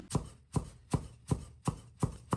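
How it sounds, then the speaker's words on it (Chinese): A knife chops half a carrot into small dice on a cutting board, seven crisp, evenly spaced strokes at a steady brisk rhythm, close and clear. "再准备半根可爱的胡萝卜，同样切成小粒"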